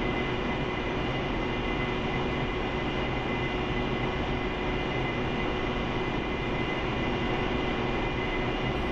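Steady, loud roar of an AV-8B Harrier jet engine during a slow landing approach at a forward operating base in the DCS flight simulator, a continuous broadband whine with constant level throughout and no voices.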